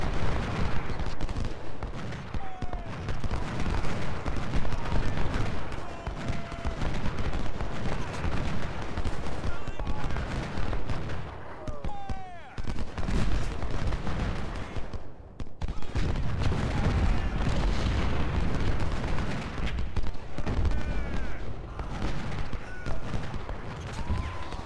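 Massed soldier gunfire in Ultimate General: Civil War, a dense, continuous crackle of musket volleys and booms rolling without pause, with distant battle noise layered underneath throughout.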